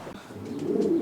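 Show pigeons coo softly inside a 20-foot loft, a brief low warbling call that rises near the end, close by with no talk.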